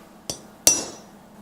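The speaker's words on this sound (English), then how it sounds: "Let me grab a center punch." A hammer strikes a center punch twice on a metal workpiece in a workshop, two sharp, bright metallic taps a moment apart, each ringing briefly before fading, with no talk.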